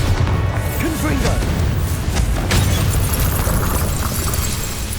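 Spell blasts from Bombarda and Confringo strike a wall in the Hogwarts Legacy video game, loud booming explosions and crashing rumble over a dense, continuous game soundscape.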